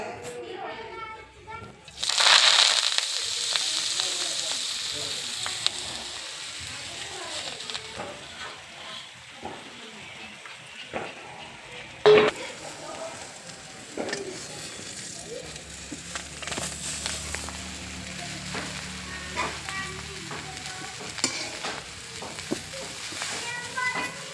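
Oil sizzles in a pan with a ground garlic and cumin paste for a gram greens dish, a steady frying hiss with occasional stirring clinks. Someone talks over the cooking for most of the clip.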